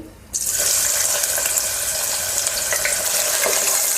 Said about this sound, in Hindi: ये प्याज हम इसमें डाल देंगे